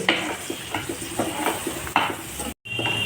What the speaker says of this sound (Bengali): আমি একটু বেগুনগুলো ভেজে নিচ্ছি তারপরে ঝিঙা আলুটা